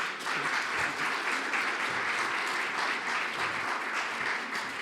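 An audience claps steadily for a woman at a public debate, dense continuous applause filling the room without a break and holding at an even level throughout.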